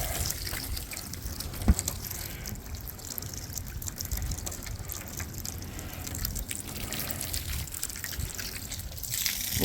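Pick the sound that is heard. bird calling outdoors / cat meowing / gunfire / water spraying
water spraying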